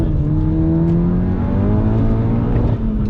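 Loud turbocharged car engine with a hybrid IS38 turbo making 585 bhp, under load, its tone climbing steadily as it accelerates hard, heard from close by.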